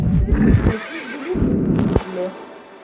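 A horse in a western-themed video game whinnies loudly up close, the neigh rising and trailing off, with a second shorter whinny and faint hoof clatter following.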